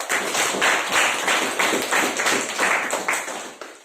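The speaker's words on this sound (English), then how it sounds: "A big round of applause." A small audience at a speakers' forum claps for a speaker's performance, a few seconds of steady, close, moderately loud clapping that fades out at the end.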